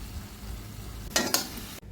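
Jaggery and coconut mixture sautéing in a pan, a quiet steady sizzle broken by two quick scraping stirs before it cuts off abruptly.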